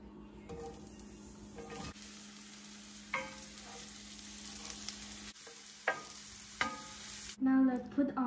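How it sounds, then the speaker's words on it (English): Onion frying in cooking oil in a pan gives a continuous close sizzle, with occasional stirring clicks and scrapes and a brief louder knock near the end. "Let's fry the onion."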